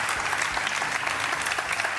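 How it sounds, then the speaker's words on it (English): Television studio audience applauding, a dense burst of clapping that stays steady and loud for a couple of seconds. "give Paddy a round of applause"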